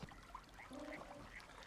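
Ducks quacking faintly in a short burst of several calls over a quiet background.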